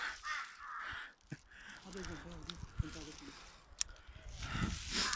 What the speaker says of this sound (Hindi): कौवे